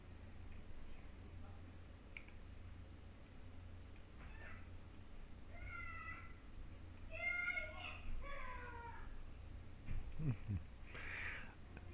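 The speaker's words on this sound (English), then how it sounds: "you're going to be hearing some strange kitty noises in the background today" A cat meows several times in the background of a room, a run of short, faint, rising cries clustered together over low steady hum, with a brief thump near the end.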